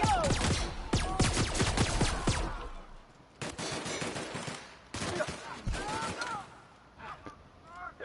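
Rapid enemy gunfire in The Outer Worlds, dense overlapping bursts of automatic shots and single cracks, loud and continuous with brief lulls, while players talk over it.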